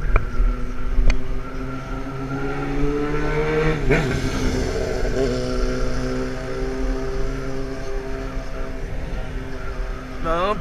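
A car drives along a road just ahead of an electric tricycle, its steady engine and road noise running loud and continuous throughout, with a passing swell near the middle and a person talking over it.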